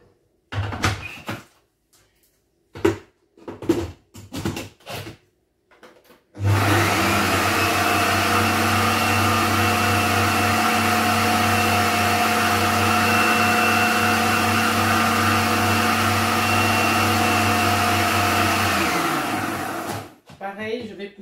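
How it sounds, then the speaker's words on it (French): A kitchen blender chops cabbage with a loud, steady motor whine lasting about fourteen seconds, preceded by scattered knocks and handling noises and ending with the motor winding down. "pour aider mon mixeur, je vais pousser un peu tout ça vers le fond parce que apparemment il ne mixe que la partie qui se trouve dans le fond"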